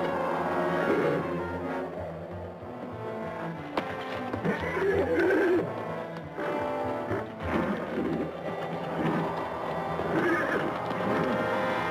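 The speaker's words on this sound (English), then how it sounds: "Horses." Horses neigh and whinny repeatedly and loudly in an old western livery stable scene, their long calls rising and falling over a dense soundtrack with some hoof clatter.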